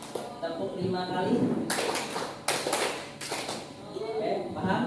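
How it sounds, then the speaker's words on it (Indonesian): A standing group of school staff claps in unison five times, crisp joined claps in a short burst, with talk before and after the clapping. "Tepuk 5 kali."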